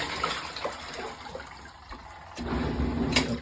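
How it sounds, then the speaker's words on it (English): Outspurge portable washing machine agitating one t-shirt, sloshing and gurgling water with a soft motor hum that grows louder and busier partway through, fairly quiet overall. "Right now I put in one t-shirt. The washer is good. The washer works okay."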